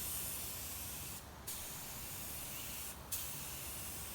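Automotive paint spray gun doing test spray-outs while refinishing a boxy Chevy body, a steady broad airy hiss that runs throughout with two short breaks as the trigger is released, fairly close.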